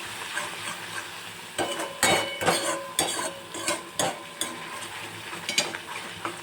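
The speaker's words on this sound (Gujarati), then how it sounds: "આપણે બધા જ મસાલાને મિક્સ કરી લઈશું" A spoon scrapes and clanks around a pan, mixing coriander-cumin powder, red chili powder and turmeric over a soft sizzle, with irregular knocks against the metal and no one talking.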